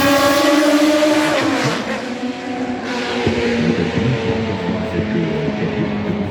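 A Spice race car, number 40, at the Le Mans Classic roars past loudly with a high engine whine dropping in pitch as it goes by, followed by fading engine noise.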